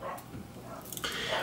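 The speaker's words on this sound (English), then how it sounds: "Sorry about the dogs barking" Dogs bark in short, loud bursts close by, a couple of quick yaps over a noisy indoor background with no talking.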